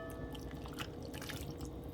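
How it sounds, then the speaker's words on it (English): Ackee, drained from its can, pours into a cooking tin for ackee and saltfish with a soft, wet, dripping splash, steady and close, with no talking over it. "And we're just going to pour our ackee"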